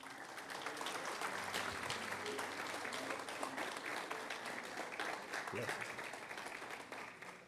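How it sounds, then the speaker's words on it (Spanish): A church congregation applauds in a long, steady wash of clapping that fills the space and fades slightly toward the end, with some voices mixed in. "Dale un fuerte aplauso,"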